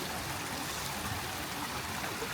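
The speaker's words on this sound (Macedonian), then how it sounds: "Еве, свежа вода кај што влегува." Fresh spring water flows steadily into a fish pond, a soft, even trickling and rushing that runs without a break and with no voices.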